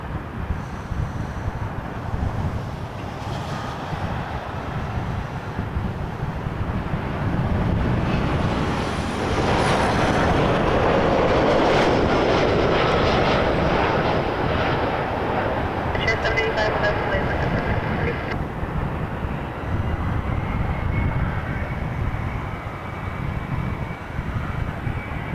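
A WestJet Boeing 737 MAX 8 at Toronto Pearson gives a broad jet roar that swells and lingers, with wind buffeting the microphone and someone talking over it.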